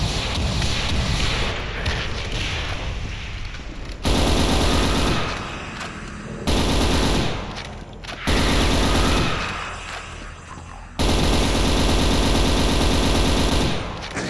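Plasma gun in the Extermination Day game firing in rapid sustained bursts, a dense loud rattling stream broken by brief pauses between volleys, with no voices.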